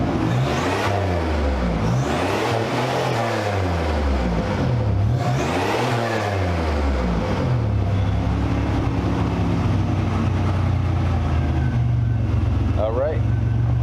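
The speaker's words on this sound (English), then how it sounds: "I'll give you a quick garage rev." A car engine fitted with a 3-inch downpipe revs three times in quick succession inside a garage, each rev a loud rising and falling roar, then it settles into a rumbling idle.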